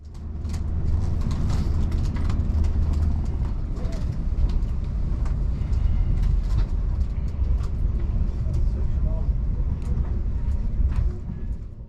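A CrossCountry train pulling out of Birmingham New Street, heard from inside as a steady low rumble with rhythmic wheel clatter over the rails, loud and continuous throughout with no talk.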